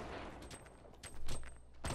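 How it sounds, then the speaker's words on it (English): Rapid bursts of gunfire from a Fortnite Battle Royale match crackle in quick succession at moderate distance, a few sharp volleys spread across two seconds. "he shot one, he's shooting at me"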